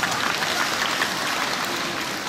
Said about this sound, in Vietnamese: Xin ở dưới chúng ta cho một tràng pháo tay nữa coi nè.